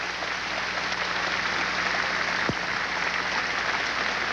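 A Soviet crowd at the Lenin Stadium Sports Palace applauds figure skaters: dense, sustained clapping fills the arena evenly throughout, with one sharp thump partway through.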